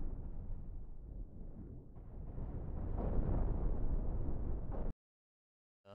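Heavy naval gunfire and explosions rumble in a ship battle game, a dense, booming barrage that swells to a peak before cutting off abruptly, then a brief burst returns at the very end.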